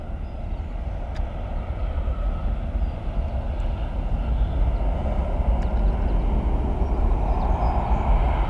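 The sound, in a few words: airplane taking off from Cleveland airport runway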